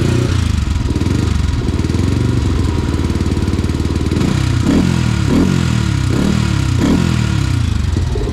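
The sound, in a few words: motorcycle idling with aftermarket exhaust in silent position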